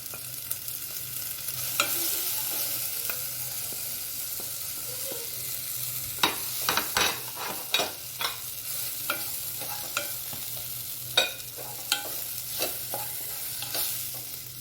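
Crushed coriander, crushed chilli and garam masala are stirred and roasted in a pan for a potato samosa filling. A soft sizzle runs underneath while a spoon scrapes the pan in irregular, close strokes that grow more frequent toward the end.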